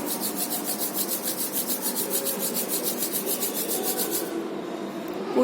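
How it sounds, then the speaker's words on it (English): Palms rubbing together, a steady close dry rasping swish in quick regular strokes for about four seconds, then stopping; no talk. "Everyone rub your hands."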